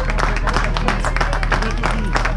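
A roadside crowd claps steadily for a finisher of the Alençon–Médavy race, dense continuous applause close by with cheering voices mixed in throughout.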